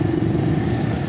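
A motorcycle riding through a flooded street in Karachi, its engine a loud, steady drone heard close throughout.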